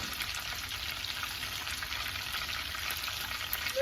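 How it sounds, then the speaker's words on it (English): Chicken flautas rolled in tortillas fry in a pan, giving a soft, even, continuous sizzle and crackle with no talking. "keep cooking these, flipping them around until all sides of our tortilla are nice and fried"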